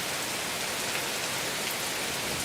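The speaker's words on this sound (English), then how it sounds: "Prince Charming standing out in the rain." Heavy rain during a big storm, a dense, loud, continuous hiss of water pouring onto surfaces close by, steady with no voices.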